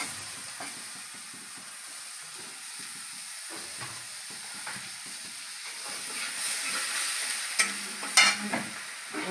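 Chopped onion and cumin fry in oil, a quiet sizzle with irregular soft stirring scrapes that grow louder toward the end, including a few sharper clanks of a spoon on the pan and no talk.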